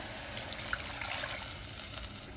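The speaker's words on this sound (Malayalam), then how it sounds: "1 ഗ്ലാസ് വെള്ളത്തോളം ഞാൻ ഒഴിച്ചു കൊടുക്കുകയാണ്" About a glass of water poured into a pan of tamarind curry for a raw cashew nut theeyal, a steady close liquid pour and splash that runs the whole time with no talk.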